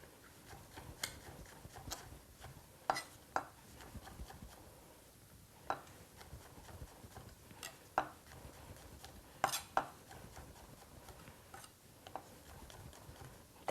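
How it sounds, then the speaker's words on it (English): A knife cuts through mushrooms on a cutting board in scattered, irregular sharp taps, quiet and close, with no talking. "it just gives me so much gratification to slice into the mushroom"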